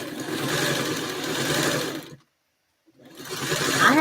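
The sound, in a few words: small sewing machine running fast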